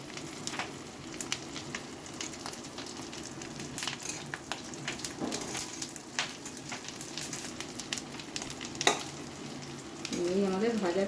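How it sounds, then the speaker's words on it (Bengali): Potato and pointed gourd cooking with fish roe in a pan over a lowered gas flame give a steady soft sizzle and fry, with occasional stirring scrapes and clicks throughout. "ওই জন্য একটু সময় নিয়ে ভাজতে হবে।"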